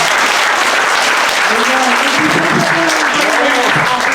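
Loud, dense applause from a church congregation in the Philippines greeting a named speaker at a Sunday morning service, close and sustained, with a voice speaking over the clapping in the second half.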